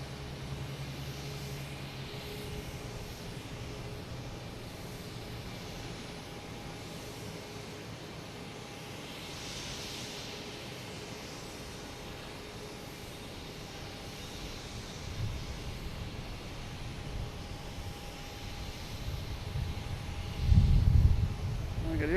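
A JetBlue airliner arriving from San Francisco at Boston Logan airport rumbles as a steady, fairly faint broadband roar, swelling louder and closer near the end with a brief low thump.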